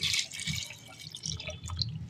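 Water is poured into a cooking pot over washed potatoes until they are covered, ready for boiling; a close, light trickling and dripping runs for about two seconds with no speech.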